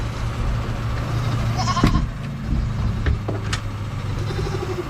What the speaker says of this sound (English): Look at this goat here.